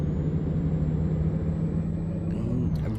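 DAF XF truck engine from the 50K Tandem mod in Euro Truck Simulator 2, a steady loud low drone with a thin high turbo whistle held above it, alone with no talk.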